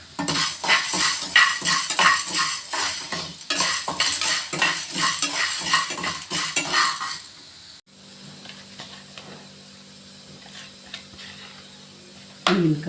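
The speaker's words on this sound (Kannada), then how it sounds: "ಕಡಲೆಕಾಳು ಹುರ್ಕೋಬೇಕು." Chickpeas are dry-roasted in a pan and stirred briskly with a spatula, a rapid rhythmic scraping and rattling for about eight seconds, followed by a softer, quieter stretch of faint pan noise.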